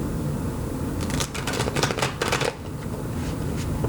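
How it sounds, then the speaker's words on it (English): Tarot cards being shuffled by hand, a quick run of crisp riffling flutters in several short bursts close to the microphone, over a steady background hiss. "I just want to give it like a nice good shuffle on camera"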